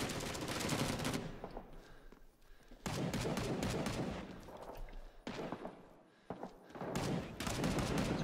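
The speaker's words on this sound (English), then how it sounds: "I can hear him firing his M14." In the Vietnam War video game Rising Storm 2: Vietnam, M14 rifle fire crackles in bursts alongside other gunfire and distant booms, loud and dense, stopping briefly between volleys.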